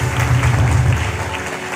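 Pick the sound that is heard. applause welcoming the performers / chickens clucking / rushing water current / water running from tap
applause welcoming the performers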